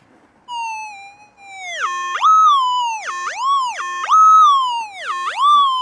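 A loud electronic target signal from a Minelab GPX 2300 metal detector warbles and swoops up and down in pitch, dipping and rising repeatedly in a siren-like pattern.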